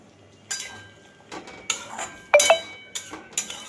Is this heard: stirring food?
yes